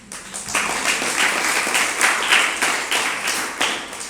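Steady, loud applause from an audience at a spiritual discourse, many hands clapping continuously for about four seconds without a break.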